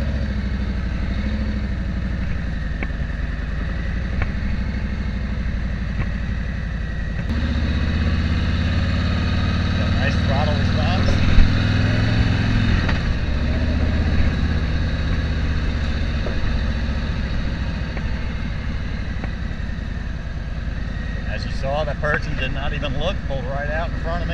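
A 2017 Harley-Davidson Road King Special motorcycle engine running steadily, a loud close rumble that swells as it revs and pulls away, with someone talking over it.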